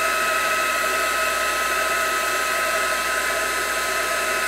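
Steady, close whoosh of a heat gun blowing hot air as embossing powder melts on a Christmas card, a constant airy roar with no pauses and no talk.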